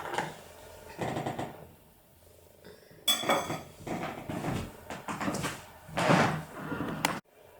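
A knife cuts a slice from a red velvet cake with cream cheese frosting, giving several clinks and scrapes of metal against a plate or pan in bursts, fairly close, with no talking.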